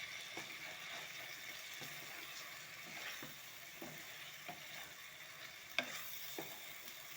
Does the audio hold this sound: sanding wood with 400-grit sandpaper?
no